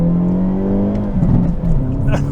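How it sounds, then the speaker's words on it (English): A 2022 Hyundai Elantra N hums steadily from inside the cabin, then its engine note jumps during an automatic rev-matched downshift before settling again, with someone speaking over the engine throughout. "I put it in the N standard mode here, which also allows for auto rev matching downshifts."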